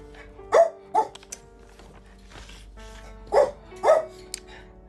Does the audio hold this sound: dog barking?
yes